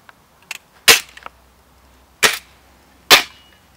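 Three sharp, loud cracks from a break-barrel air rifle at cadet shooting practice outdoors, spaced about a second apart, with faint clicks of handling between them.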